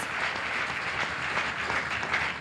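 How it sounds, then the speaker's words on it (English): A church congregation claps hands together during a healing and deliverance service, a dense steady wash of applause that fills the whole stretch without a break. "Clap your hands for the Lord Jesus Christ"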